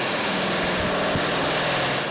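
An electric drill with an 1/8 bit boring into rivet heads on the aluminium skin of a Lancaster bomber under restoration, a steady high whine running throughout, close and loud, with a couple of low knocks.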